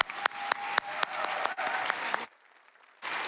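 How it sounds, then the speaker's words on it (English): An audience at an annual MLK recommitment celebration gives another round of applause, dense clapping with a few loud hits, then a brief near-silent gap before the clapping returns. "give him another round of applause."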